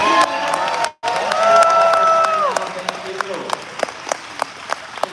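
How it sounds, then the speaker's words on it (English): A crowd's applause and cheering fills the space at a Sonic fan expo, with a whoop or two rising over it, then thins out into scattered claps. "please give a big round of applause for our content"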